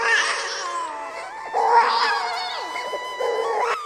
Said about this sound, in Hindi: उसके कानों में एक बच्चे की रोने की आवाज सुनाई दी